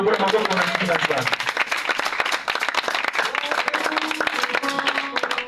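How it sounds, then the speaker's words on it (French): A church congregation claps and applauds for the Lord, a steady, dense patter of many hands under loud voices, with some people singing or calling out throughout. "Acclamons pour le Seigneur."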